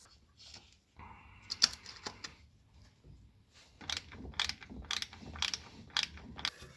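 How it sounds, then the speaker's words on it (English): Ratcheting wrench tightening a bolt on a Mercedes E220 CDI W210 starter motor, rapid metallic clicks in short bursts, close and fairly loud, with pauses between runs of ratchet clicks and no talking. "you basically have to tighten first the bolt from the bottom, and then the one from up is gonna go also easier."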